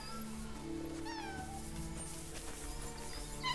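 Cats meowing in the video game Kingdom Come Deliverance II, a couple of distinct rising and falling meows over a quiet, steady background hum, moderately close.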